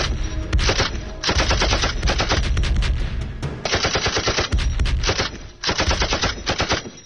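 A Hotchkiss machine gun firing in long rapid bursts, loud and close, with short pauses between strings of rattling shots that cut off and restart several times.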